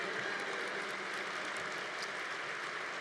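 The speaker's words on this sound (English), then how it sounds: "your parents are clapping" Applause from parents in the audience at a university graduation convocation, a dense, steady wash of clapping that holds at an even level throughout with no voices on top.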